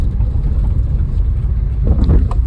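A car driven by a woman on her own, its engine a steady close rumble throughout with a slight rise in revs near the end.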